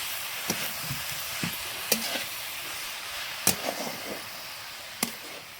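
A vegetable bhaji being stirred in a pan, with a low steady sizzle and several sharp spoon knocks against the metal at uneven intervals, close by and with no voices.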